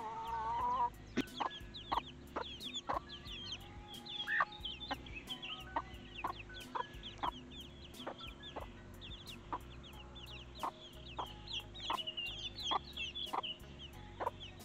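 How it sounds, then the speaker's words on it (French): A rooster and a hen in a backyard enclosure make soft, scattered clucks and short calls. The sounds are quiet and close, with irregular clicks and a low steady background hum. "le coq il est un peu relou avec la poule parce que ça fait plus d'un mois qu'il l'a pas vue"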